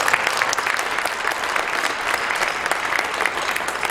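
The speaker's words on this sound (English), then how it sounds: "So give TJ one more round of applause." Steady audience applause at a school spring band concert, a dense crowd of clapping hands filling the room for about four seconds without a break.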